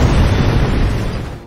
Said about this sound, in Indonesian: tiba-tiba bom meledak di ruangan tersebut